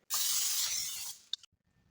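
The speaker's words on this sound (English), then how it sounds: "you lightly spray a baking dish" Cooking spray can hissing onto a baking dish in one steady spritz lasting about a second, then a brief light clink as it stops.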